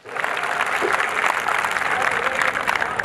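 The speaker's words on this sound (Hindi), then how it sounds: "जब तक सारे मिलके एक बार जोरदार ताली नहीं बजाए।" A crowd at a comedy poetry gathering breaks into loud, dense clapping that starts abruptly and carries on steadily, with faint crowd murmur mixed in.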